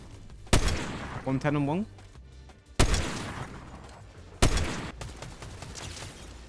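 Gunfire in the video game Fortnite, three sharp loud shots spaced a couple of seconds apart, each with a decaying tail, alongside brief speech and game sounds.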